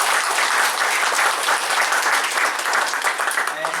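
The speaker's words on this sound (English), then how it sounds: "big round of applause for these guys" A crowd at a tech talk on Azure DocumentDB applauds the event organizers, steady and fairly loud, with faint voices mixed in.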